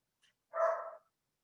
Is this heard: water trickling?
no